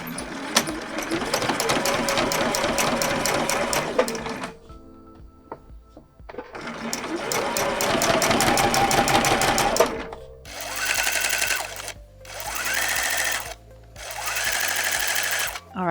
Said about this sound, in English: Now I'm just sewing each pair with a 1/4 inch seam allowance.